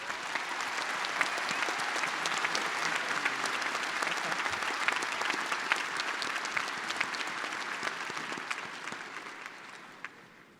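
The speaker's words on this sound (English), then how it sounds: "please give another round of applause to the doctoral degree recipients" A large crowd applauds doctoral degree recipients at a university fall commencement ceremony, a long, even wash of clapping that slowly tapers off toward the end, heard somewhat distantly.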